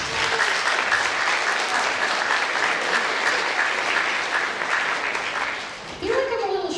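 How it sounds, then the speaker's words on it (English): An audience applauds at a presentation on sexual harassment: dense, sustained clapping fills the room for about six seconds, briefly dips, then swells again as a voice speaks over it at the end. "It's okay to clap now."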